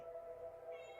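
A cat gives a drawn-out, wavering meow, faint and steady, with no voices over it.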